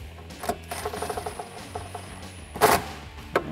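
Socket wrench fitted with a 10mm extension tightening a bolt on an air intake box of a 2014-2018 Silverado, making quick bursts of ratcheting clicks close up, with a couple of louder metallic knocks between them.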